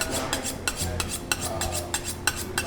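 Rhythmic metallic scraping of a knife blade drawn along a honing steel, strokes repeating about every half second, close and fairly loud over a faint hum, no talking.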